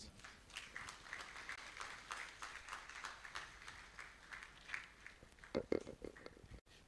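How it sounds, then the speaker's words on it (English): Scattered audience clapping at an investment forum as a CEO is welcomed on stage, faint and uneven with distinct claps in loose rhythm, a voice speaking over it near the end. "Let's stop clapping."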